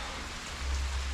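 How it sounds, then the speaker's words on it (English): Heavy rain hammers down in a dense, steady hiss, with a low rumble that swells partway through, and nobody speaks. "right now it's just hammering it down"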